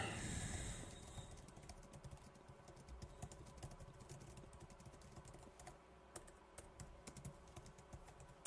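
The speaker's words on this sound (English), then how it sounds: "let me type this timestamp in" Typing a timestamp on a computer keyboard: rapid irregular key clicks tapping close and quiet over a low background hum, without talking.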